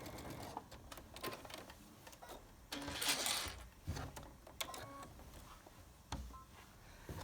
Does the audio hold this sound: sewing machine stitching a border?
yes